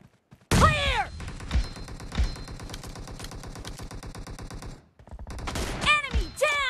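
Gunfire in PUBG Mobile: a close, loud sustained automatic burst of rapid shots lasting several seconds, a brief pause, then another burst with ringing, chirping impact tones.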